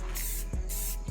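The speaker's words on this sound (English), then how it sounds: "I'm just go ahead and give it a coat of gloss to seal this paint job." Short burst of aerosol gloss clear coat sprayed onto a painted KitchenAid stand mixer, a steady close hiss in two puffs with a brief gap between them.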